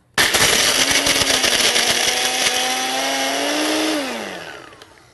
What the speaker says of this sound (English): So let's try crushing some ice.